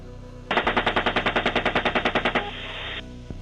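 A long rapid burst of gunfire from an attack helicopter during a combat engagement, about twenty evenly spaced heavy shots in quick rhythm, loud and alone with no talk.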